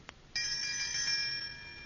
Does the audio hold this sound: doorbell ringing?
yes